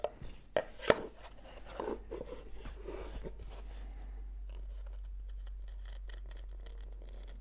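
Carving knife cutting incisions into wood held on a lap bench: a few sharp close taps at first, then a quiet, steady scraping and slicing.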